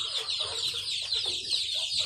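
Chickens and roosters at a game farm in Canlaon, Negros Oriental cluck and call over a dense, busy flock background, with no talking.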